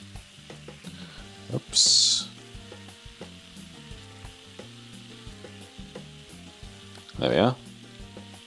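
Steak frying in hot oil in Taskmaster VR, a soft steady sizzle under clatter and brief louder hissing bursts, with someone speaking briefly.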